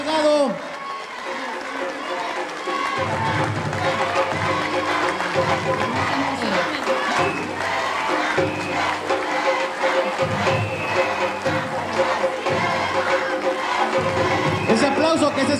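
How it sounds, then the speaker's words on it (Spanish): A crowd at a legislative report event applauds and cheers loudly for a legislator, steady dense clapping and shouting that swells and holds throughout, with a voice over a PA speaking above it. "Que se escuche fuerte el aplauso para nuestra compañera Yesabel Delgado."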